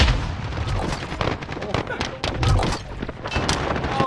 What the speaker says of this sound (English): He's shooting me in my legs!